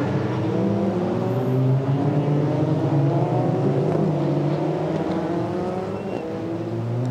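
Asian Formula Renault single-seaters race around a circuit, their engines screaming loud and continuous as several cars pass in a dense, overlapping whine that rises and falls.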